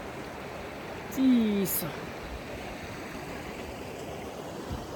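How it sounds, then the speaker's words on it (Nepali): Cold mountain stream water flows from just below the Rani Mahal palace in a steady, close rushing babble, with a brief spoken word and a short burst of voice near the start. "यो पानी पानी पानी पानी रानी महलको ठ्याक्क तलबाट आउँछ"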